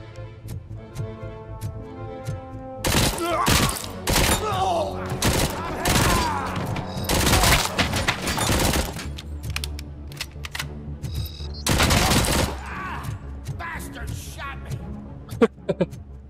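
Uzi fire in the video game Robocop: Rogue City, with several loud rapid bursts of automatic shots separated by short pauses and a player talking over the action.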